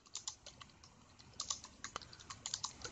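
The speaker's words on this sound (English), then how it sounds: "then you can start typing" Fingers type on a computer keyboard while entering code in MATLAB, a quick, irregular run of light, crisp key clicks in small bursts, close and quiet with no talking.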